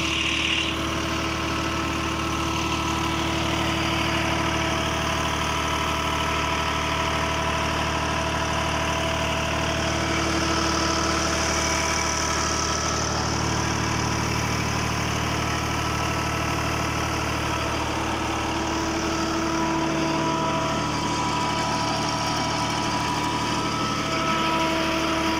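A 1986 Fiat 480 diesel tractor engine runs steadily, a constant rumbling drone with mechanical vibration, loud and close for the whole stretch.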